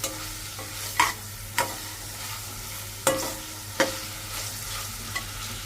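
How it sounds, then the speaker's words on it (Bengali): Whole spices (bay leaf, cardamom, cloves and cinnamon pieces) frying in oil for a broiler chicken curry, a soft steady sizzle broken by several sharp spoon scrapes and stirs against the pan, close and clear. "এটাকে একটু ভেজে নেব।"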